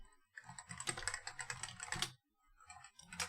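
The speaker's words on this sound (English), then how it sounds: "I don't know why I'm typing that." Computer keyboard typing during software coding work, a busy run of close, crisp key clicks in quick irregular bursts with a short pause before more keystrokes.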